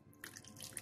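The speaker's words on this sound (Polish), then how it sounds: "Nalewamy wodę, też nie za dużo" Water poured into a pot of pork goulash sauce, a short, quiet splashing trickle that starts after a brief pause and runs on with small bright spatters.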